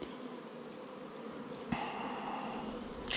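Honeybees hum at a steady drone inside a spring hive during inspection, a dense continuous buzz close by, with a brief sharp bump midway and no talk.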